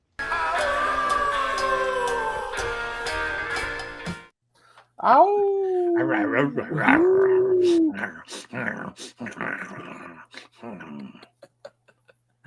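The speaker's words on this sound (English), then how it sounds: "You've never heard a dog growl before? An angry dog over there." A dog growls angrily, a rising whine-like snarl with strained tonal growls close up, following a burst of music and mixed with scattered clattering noise afterward.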